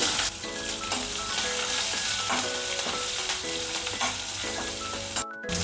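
Green chillies fry with chana dal in hot oil, giving a steady close sizzle with light stirring scrapes and a brief pause near the end.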